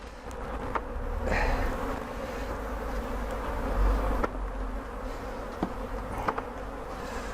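Honey bees buzz continuously around an opened beehive during an inspection in a back garden in Sheffield, a dense steady drone with a few louder bees passing close, and no voices.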